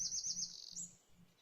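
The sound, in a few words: birds chirping, ambient sound in video game Colony Survival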